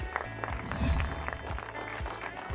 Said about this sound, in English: Round of applause for our runners-up.